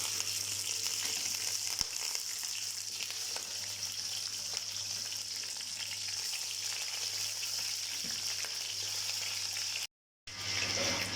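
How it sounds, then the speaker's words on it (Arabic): Chicken meat fries in a pan for a Yemeni majboos, giving a steady dense sizzle and crackle throughout, with a low hum beneath and a short cut to silence near the end. "هنا لحم الدجاج أقليه"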